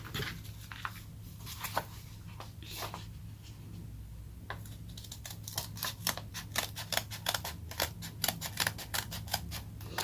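Scissors with glue-gummed blades snip through paper during bookbinding work on circular faux-leather journals, a run of sharp close cuts that quickens into rapid repeated snips, with no talking.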